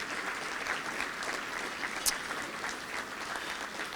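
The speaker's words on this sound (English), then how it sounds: "we can give her and you a round of applause" Steady audience applause at a gala, an even wash of many hands clapping throughout at moderate distance, with no talk over it.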